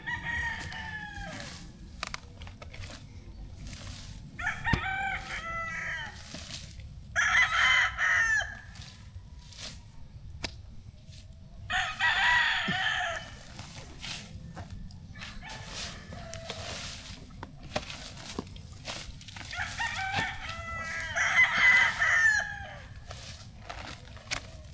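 Several roosters crow at intervals, some nearby and some farther off, over a low outdoor background with occasional clucks.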